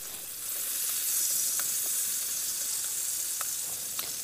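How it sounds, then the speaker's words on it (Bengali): Crabs fry in hot oil in a wok, giving a steady bright hiss and sizzle at close range with a few small sharp pops and crackles, no one speaking. "এবার কড়াইতে তেল গরম করে কাঁকড়াগুলো ভেজে নেব।"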